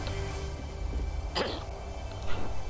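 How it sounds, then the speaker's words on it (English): A person clears their throat once in a short, rough burst midway, heard close over a quiet gaming background hum. "I had to clear my throat"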